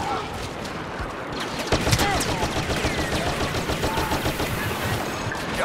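Rapid automatic turret fire from a vehicle in a Star Wars Battlefront multiplayer battle, a dense continuous rattle of blaster shots with a louder burst near two seconds, steady and close throughout.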